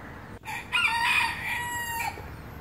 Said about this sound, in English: Roosters crow